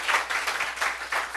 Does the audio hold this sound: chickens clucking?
no